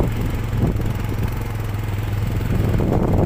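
A motorcycle engine labours on a steep mountain road on the way from Beni to Muktinath, a loud, close, rough low drone with rattling clatter, steady and continuous with no talk.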